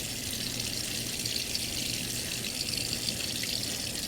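Steady broadband rush of tap water running over a Nintendo NES controller being rinsed off after scuff-pad sanding, close and continuous with no voices.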